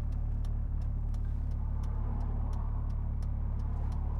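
A turbocharged car's steady, low engine drone with a rich exhaust burble, constant and close, with faint regular ticking above it.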